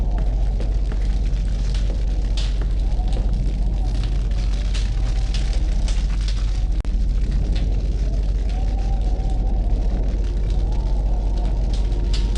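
A campfire burns at the Invisibles' camp in the video game Fahrenheit, giving a steady, loud, close roar with a deep rumbling bed and scattered sharp crackles and pops throughout, with no voices over it.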